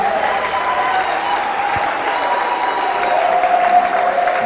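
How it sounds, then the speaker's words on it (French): A church congregation claps in a steady, dense wash of applause that holds at an even loudness throughout, with faint crowd murmur beneath. "Acclamons pour elle."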